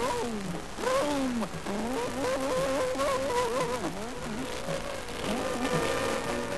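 In a cartoon, a character voice imitates a plane engine starting up with a continuous, wavering run of 'vroom' sounds that revs up and down, loud and close, with no other talk.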